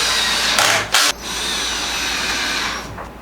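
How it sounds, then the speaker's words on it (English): A power drill drives screws into wooden legs for a van bed frame, with a close, loud whirring burst, a brief pause, another short spin, then a steady run. "Drill, drill."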